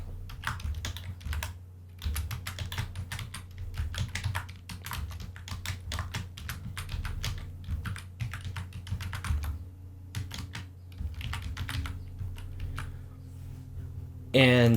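Rapid typing on a computer keyboard produces a continuous stream of close, crisp key clicks in uneven bursts with short pauses between them, under a low background hum.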